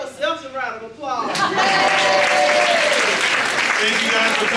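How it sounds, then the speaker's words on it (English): Audience members at a Smyrna mayoral and city council candidates forum applaud themselves, a burst of loud, dense clapping that rises after a spoken line and continues steadily, with voices mixed in. "And give yourselves a round of applause."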